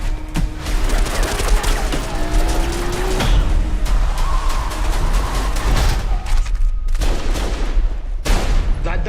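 Close-up gunfire from an action movie rattles in dense, rapid bursts of loud cracks and bangs that carry on through the whole stretch, with scattered booms and no voices.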